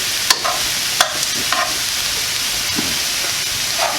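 Shrimp and hot vegetables, including eggplant, sizzle loudly in a pan, with a dense steady hiss punctuated by several sharp clacks and scrapes of a utensil turning them.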